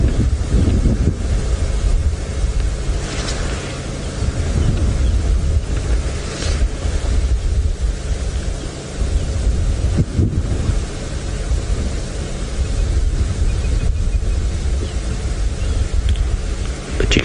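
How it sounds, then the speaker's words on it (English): Wind gusting across open bush on an overcast morning safari drive, a loud continuous rumble of buffeting against the microphone that rises and falls in waves over the whole stretch, with no other sounds coming through. "You can hear it's quite a quiet day today with this overcast kind of windy weather. The wind almost muffles a lot of the sounds."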